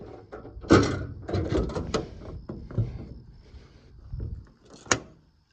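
Compartment doors on a crane service truck slam and latch shut several times, producing sharp metallic thuds and clunks at close range with rattling in between.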